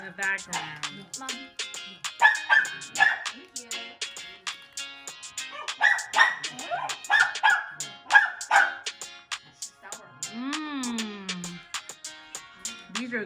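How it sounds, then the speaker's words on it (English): Several dogs bark and yip repeatedly in the background, an uneven run of sharp barks, with people talking nearby. "Excuse the dogs in the background."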